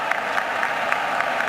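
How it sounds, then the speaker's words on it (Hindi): A large audience at an investment festival applauds steadily, a dense close wash of clapping with no speech over it. "एक बार जोर से पुष्कर सिंह के लिए ताली बजाकर उनका स्वागत करिए।"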